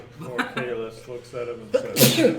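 A person gives one sharp sneeze near the end, just after someone finishes speaking.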